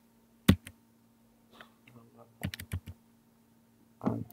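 Keystrokes on a computer keyboard while entering text in a PowerApps component, a single sharp click followed by a short burst of several close taps and a final cluster, with faint background talk.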